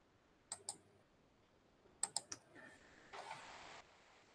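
Mouse buttons click in a quiet room, a pair of sharp clicks followed a moment later by a quick cluster of three, faint and close, with a brief soft rustle afterward and no speech.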